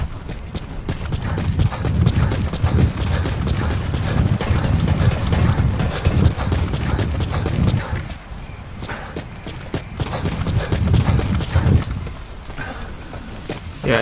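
Horse hooves clip-clopping at a steady walking rhythm through a video game wilderness, nearby and continuous, with a short lull and a game voice speaking over parts.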